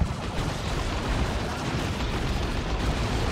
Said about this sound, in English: War Truck taking a bunch of fire.